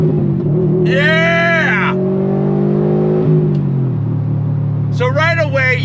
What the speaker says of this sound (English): let that classic STI, Subaru WRX STI rumble